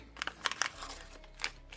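A plastic bag from an FPV drone camera package crinkles and rustles in a few quick, close bursts, then settles into quieter handling noise.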